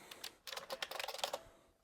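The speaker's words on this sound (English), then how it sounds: "This is a very dirty, but very clicky IBM Model F keyboard." A dirty, very clicky IBM Model F keyboard being typed on, a quick burst of crisp, bright key clicks in an uneven rhythm, close and fairly quiet.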